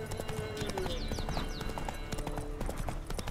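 Roach the horse gallops in The Witcher 3, a rapid, steady clip-clop of hoofbeats running close and loud over a busy game soundscape, with no talking.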